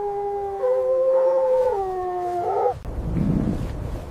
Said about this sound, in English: Tiny silver Arctic wolf.